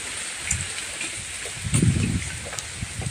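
Rain from Cyclone Remal's stormy weather hisses steadily over a village home, a constant dense patter with a few louder drips and a brief low rumble near the middle.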